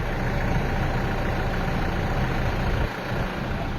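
A Toyota Fortuner automatic 4x4 idles just after being started, giving a steady, close, broadband diesel-like rumble that dips slightly near the end.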